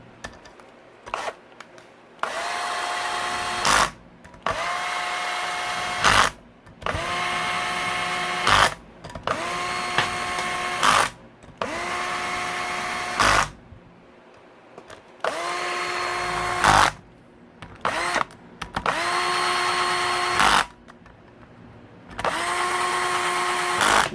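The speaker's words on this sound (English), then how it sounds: "Now I'm using this cordless Black & Decker here." A cordless Black & Decker drill runs in repeated short bursts, driving engine bolts snug during a Honda CRF250R top-end rebuild; each whirring run rises and holds, then stops, with brief pauses between roughly a dozen close, loud spins.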